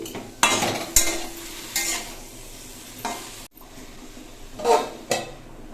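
Spinach cooking in a pan, a faint sizzle broken by half a dozen distinct stirring scrapes at uneven intervals, close by and without voices.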